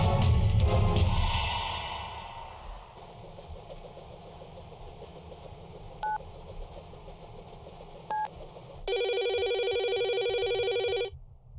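A telephone rings twice with short electronic tones, then a sustained buzzing ring, over a low hum and an earlier rumble, heard alone without talk.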